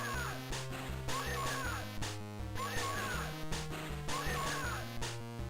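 A person's mouth imitates a cat in a GB Studio game, giving repeated meow-like cries over a looping chiptune backing tune, moderately loud with no talk.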